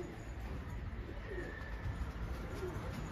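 Pigeons coo faintly and briefly over a low rumbling outdoor background, a few soft calls scattered across a few seconds with no speech.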